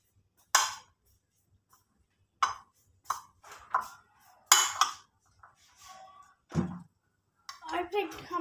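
A chickpea salad is tossed with salt and chili in a bowl, giving close, sharp clinks and scrapes of a spoon against the dish in irregular bursts separated by quiet pauses.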